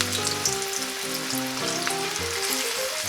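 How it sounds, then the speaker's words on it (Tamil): Vegetable pakoda fry in hot oil with a steady, close crackling sizzle. Bubbling tones rise and fall with no voices. "எண்ணெய் காஞ்சதும் நம்ம வறுத்து எடுத்துக்கலாம்."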